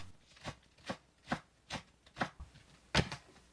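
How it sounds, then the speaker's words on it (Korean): Knife chopping green onion into small pieces on a cutting board, seven crisp evenly spaced chops about half a second apart, close and clear with no talking. "대파 5cm를 작게 썰어주세요."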